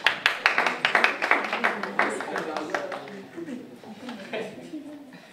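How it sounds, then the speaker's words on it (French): A church congregation at a Sunday service claps in quick, distinct strikes that start loud and rhythmic, then thin out and soften, with voices murmuring beneath toward the end. "Trésor, applaudissez."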